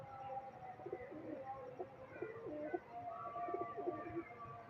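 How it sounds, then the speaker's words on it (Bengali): A freshly caught pigeon coos up close in a series of low throaty rolling calls over a faint background hum. "এই পায়রাটা আমি এক্ষুনি ধরেছি"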